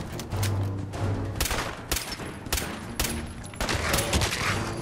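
Fallout 4 combat with Rust Devils: a volley of gunshots cracks in sharp, close bursts, about half a dozen loud reports spaced irregularly over a rumbling backdrop.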